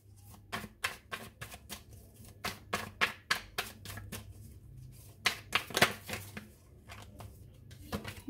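Tarot cards shuffled by hand in a steady run of crisp riffling slaps and taps, close and fairly quiet, with no voice over them.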